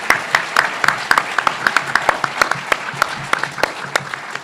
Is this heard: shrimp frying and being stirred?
no